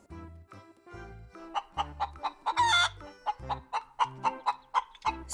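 A hen clucks in short, close bursts, a rhythmic series of sharp calls with one longer squawk partway through and brief pauses between.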